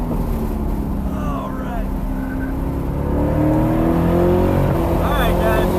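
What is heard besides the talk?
C8 Corvette racing around Homestead Miami Raceway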